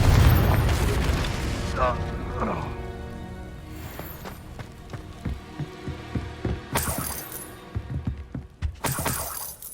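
A Confringo blasting spell goes off in the Hogwarts Legacy video game, a loud booming burst with shattering debris at the start that fades, followed by scattered sharp impacts and cracks through the rest of the clip.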